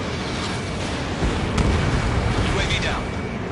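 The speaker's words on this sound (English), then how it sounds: "Mage 2, missile launch." Ace Combat 7: Skies Unknown combat, a missile launch whooshes off and deep rumbling explosions follow, loud and steady beneath radio chatter from pilots.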